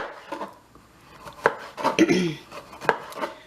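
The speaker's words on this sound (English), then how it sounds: "So I'm going to get into chopping these vegetables up." Vegetables being chopped on a cutting board for Jamaican oxtails: a handful of sharp, separate knife strikes at an irregular pace, close and clear, with faint kitchen clatter between them.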